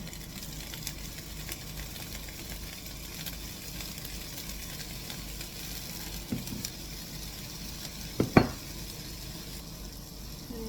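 Ingredients for a prawn stir-fry frying in sesame oil in a pan, with a steady low sizzle throughout and a couple of brief utensil knocks near the end.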